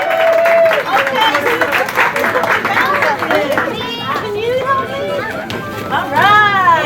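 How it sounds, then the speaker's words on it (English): Audience clapping during a mock election ceremony aboard the Carnival Magic cruise ship, with loud cheering, whoops and a host's voice over the crowd noise throughout. "Big round of applause."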